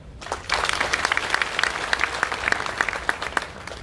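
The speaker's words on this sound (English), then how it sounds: "Join me in a round of applause." An audience at a national sport awards ceremony in Botswana bursts into applause. Dense, steady clapping from a sizable crowd in a hall rises quickly and holds for several seconds.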